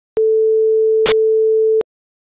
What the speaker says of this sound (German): Wir hören nun einen Sinuston, der für 50 Millisekunden durch weißes Rauschen unterbrochen wird.